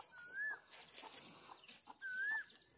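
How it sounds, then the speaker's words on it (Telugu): Chicks in a village backyard give two faint, high, rising peeps about a second and a half apart, against a quiet outdoor background. "కోడి పిల్లలు."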